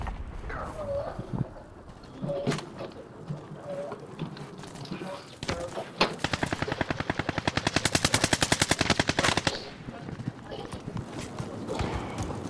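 Automatic gunfire rattles in Call of Duty Modern Warfare, scattered single shots followed by a long rapid burst, with voices talking over the action.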